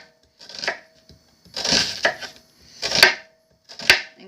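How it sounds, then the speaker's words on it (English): A knife chops through an onion on a cutting board in four separate bursts of crisp, close cuts, with short pauses between them. "I like to cut my onion in half and leave the little end on because it's a little easier to cut"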